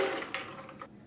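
Half a cup of water pours into an Oster Versa Performance blender jar, a brief splashing fill that tapers off within about a second, with no talking.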